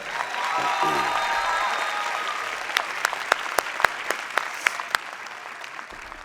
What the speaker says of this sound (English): Let's start by giving the choir another round of applause.